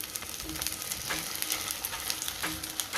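A rava-coated bread slice toasts in ghee in a pan over a low flame, giving a close, steady sizzle with a few soft scraping taps as it is pressed and turned.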